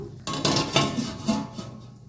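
A lid set over a pan of egg curry gives a few close metallic clinks and scrapes of cookware, with a steady kitchen hum underneath and no talking.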